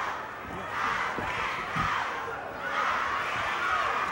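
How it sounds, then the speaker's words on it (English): A wrestling arena crowd shouting and cheering in a continuous loud roar that swells in waves, with scattered thumps underneath and no clear talk on top. "all the exhortation of the crowd right now is not helping Chris."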